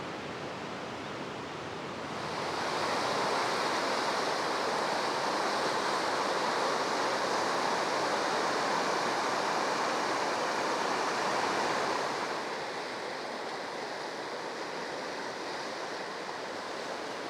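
The flooding Merced River near Yosemite's west gate at El Portal rushes past as a broad, steady roar of fast water, swelling louder in the middle and easing at the end, with no voices.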